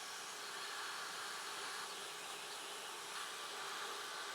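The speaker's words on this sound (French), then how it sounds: "Ils disent que c'est les meilleurs aspirateurs du monde et qu'ils ont une superbe aspiration." Vacuum cleaner running with strong suction, a steady, continuous airy whine that stays even throughout, moderately quiet and heard alone.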